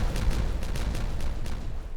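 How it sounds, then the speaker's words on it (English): Dynamite in the Timberborn video game sets off a rapid string of about eight heavy, booming blasts in quick succession, loud and dense with rumbling low end. "Who doesn't like a good dynamite explosion?"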